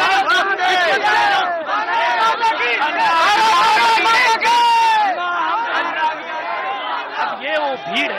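Large protest crowd at Ramlila Maidan during Anna Hazare's fast: dense, loud babble of many voices and shouts close around, with overlapping calls throughout.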